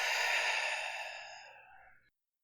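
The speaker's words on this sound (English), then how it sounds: "Take a big breath." A single deep breath during a seated yoga session, heard close and alone as a long, airy exhale that fades out over about two seconds into silence.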